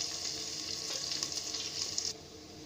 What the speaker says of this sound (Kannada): ಈಗ ಬೆಳ್ಳುಳ್ಳಿನ ನಾನು ಪೇಸ್ಟ್ ಮಾಡಿ ಇಟ್ಕೊಂಡಿದ್ದೆನಲ್ಲ ಅದನ್ನ ಹಾಕ್ತಾ ಇದ್ದೀನಿ. ಬೆಳ್ಳುಳ್ಳಿ ಒಂಚೂರು ಕೆಂಪಾಗಲಿ.